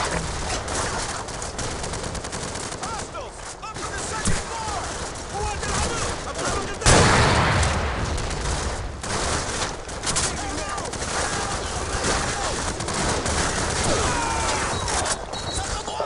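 Sustained machine gun fire rattles in dense bursts amid a noisy battle, loud and continuous with a sharp crash partway through, while voices shout over the gunfire.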